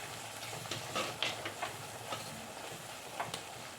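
Chili powder, coriander powder and turmeric are sautéed lightly with salt in a pan for a fish curry, giving a steady, soft sizzling hiss with a few faint crackles throughout.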